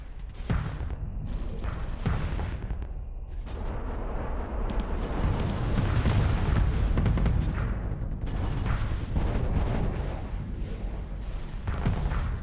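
Mag driver weapon hits in the space combat game Starsector, a dense barrage of heavy booming impacts and rumbling blasts rolling continuously and loudly throughout, with sharper cracks standing out now and then.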